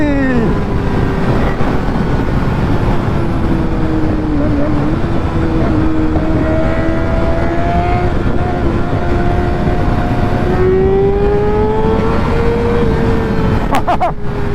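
A Kawasaki Ninja ZX6R motorcycle engine at high speed holds a loud, steady high-pitched whine that climbs slowly, with wind roar throughout and brief shifts near the end.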